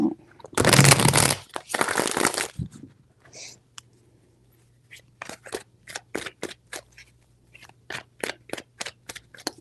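Tarot cards are shuffled close up, starting with a long riffling burst, then a run of quick sharp separate card flicks and taps in an irregular rhythm against near silence.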